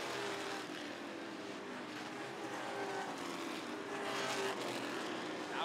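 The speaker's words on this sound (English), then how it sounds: "everybody else is single file racing" Sportsman stock cars race single file around Rockford Speedway, a continuous engine drone from a pack of cars at moderate distance, steady and slightly swelling near the end, with no talking.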